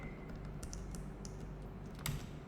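Quick keystrokes on a computer keyboard entering a shortcut during Revit design work, a few light scattered clicks over a steady low hum, faint and close.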